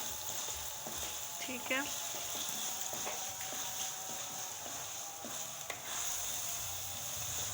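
Kachnar qeema stirred and frying in a pan, a steady soft sizzle with occasional spoon scrapes, while a voice speaks briefly over it.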